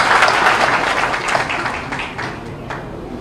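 Loud, sustained applause from a large crowd at a political rally in Rudrapur, Uttarakhand, with dense clapping filling the whole stretch and some voices faintly mixed in.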